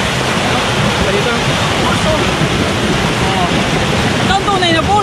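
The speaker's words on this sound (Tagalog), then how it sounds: "Ganda ng bagsak ng tubig." Waterfall at Talon Eva Falls roars as a steady broadband wash of falling water, loud and continuous throughout, with faint voices now and then under the rush.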